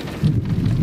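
Heavy rain and rumbling thunder from a thunderstorm on the plains of Tornado Alley form a loud, steady wash of noise with a low, continuous roll beneath it.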